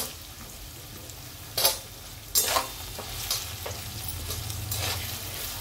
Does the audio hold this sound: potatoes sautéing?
yes